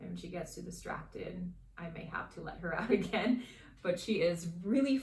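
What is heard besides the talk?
No everyday noises stand out.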